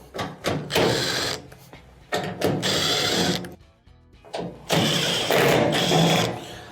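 A power driver whirs in loud bursts while backing screws out of the top panel of a washing machine, four or five run-and-stop cycles with brief pauses between them and no speech.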